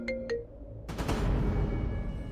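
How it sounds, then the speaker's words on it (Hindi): Mobile phone ringtone for an incoming call, two short electronic beeps followed by a burst of music or sound effects, moderately loud and close. "ये एक सेकेंड, अर्जुन का फोन आ रहा है"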